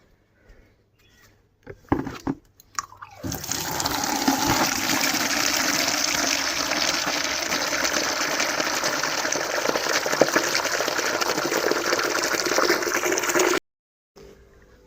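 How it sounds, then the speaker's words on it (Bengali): Leafy greens are rinsed under a running tap: a few brief splashes and clatters, then a steady, loud gush of water for about ten seconds before it cuts off. "চলো ধুয়ে নিই শাকটাকে"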